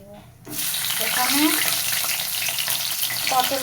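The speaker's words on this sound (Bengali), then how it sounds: "এর ভিতরে এখন একটা একটা করে সবজি ভেজে" Vegetables, including pointed gourd, frying one by one in hot oil after fish, a steady close sizzle that starts abruptly and continues evenly with faint clinks.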